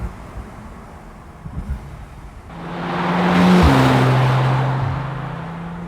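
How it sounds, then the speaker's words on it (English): A 2018 Porsche 911 Turbo S Cabriolet accelerates, its engine rising to a loud roar and then easing off, heard from inside the open car with rushing wind and no talk. "I cannot say how cool it is to hear all the noises in this Cabriolet versus a coupe."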